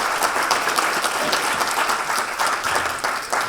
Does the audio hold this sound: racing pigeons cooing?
no